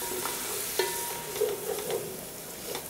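Mint and green chillies stir-fry in a pan for mutton biryani, giving a steady close sizzle broken by soft scraping strokes from the stirring.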